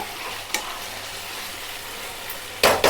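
Chicken and garlic sizzle steadily in a frying pan for a kharda chicken snack, with a few sharp spatula scrapes and clinks against the pan, the last two close together near the end.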